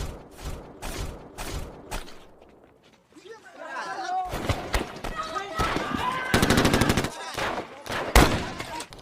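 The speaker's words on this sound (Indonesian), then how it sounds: "tembakan itu berasal dari Knok dan Carrot beserta anak buahnya yang memulai peperangan" Gunfire in a scene from the film City of God, with sharp bursts of repeated shots and rapid machine-gun-like volleys at the start and in the second half, mixed with a narrating voice and other film sounds.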